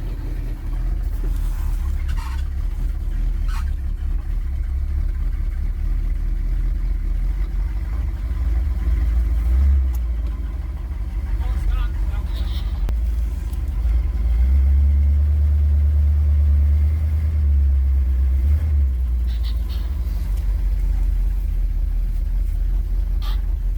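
A 1977 Pontiac Trans Am engine idles loudly nearby, a deep, slightly uneven rumble with occasional swells in revs, and no one talking over it.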